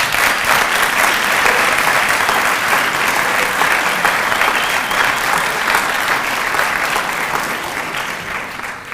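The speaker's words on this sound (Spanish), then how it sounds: "a mí me pone muy contento cuando aplauden a mi ministro de Economía" Sustained, loud applause from a large audience at a Stanford speech, dense clapping holding steady for several seconds before easing slightly at the end.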